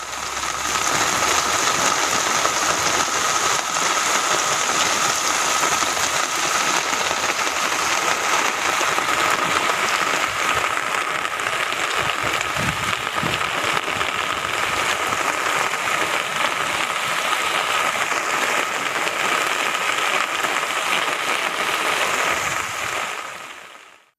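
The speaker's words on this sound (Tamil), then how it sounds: "சென்னை பட்டினப்பாக்கம், மயிலாப்பூர், திருவல்லிக்கேணி, அம்பத்தூர், ஆவடி, தாம்பரம் உள்ளிட்ட பகுதிகளில் அதிகாலை வரை இடி மின்னலோடு மழை வெளுத்து வாங்கியது" Heavy rain pours steadily over Chennai during a nighttime storm, a dense, continuous, loud hiss of falling water that holds unbroken throughout.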